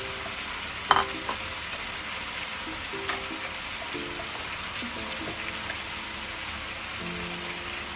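Tomatoes go into a pan of frying onions, giving a soft, continuous sizzle with a few sharp clinks and scrapes of a utensil against the pan, fairly quiet and steady.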